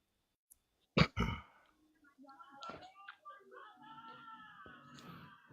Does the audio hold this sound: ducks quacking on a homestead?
no